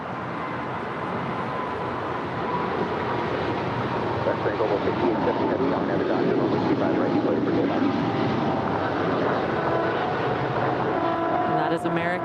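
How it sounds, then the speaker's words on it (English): An American Airlines Boeing 777-300ER jet takes off from LAX, its engines a steady, loud broadband roar that holds throughout, with people talking faintly underneath. "And that is American 136 off to London Heathrow 777-300 ER"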